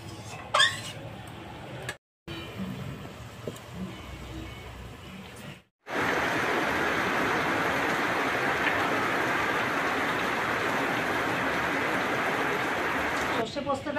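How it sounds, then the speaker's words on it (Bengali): Mustard and poppy seed paste comes to a boil in water for a Bengali hilsa fish curry, giving a steady, dense bubbling hiss that swells loud and continuous after brief quieter stirring sounds at the start. "সর্ষে পোস্তটায় জাল উঠে গেছে"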